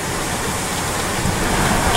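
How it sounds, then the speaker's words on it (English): Heavy rain begins pouring during a wild storm with strong wind and lightning, a dense steady roar of water close around, loud and continuous without pause. "Oop, here comes the rain."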